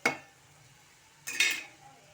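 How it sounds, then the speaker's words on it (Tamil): A utensil scrapes and clinks twice against a pan while egg fried rice is stirred: one sharp knock, a quiet pause, then a louder, longer scrape, close by with no talking. "இப்போ நல்லா கிளறிக்கலாம்"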